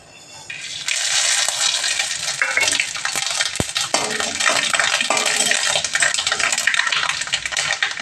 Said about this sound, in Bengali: তেল গরম হয়ে গেছে, তেজপাতা, শুকনো লঙ্কা একটুখানি ছিঁড়ে দিচ্ছি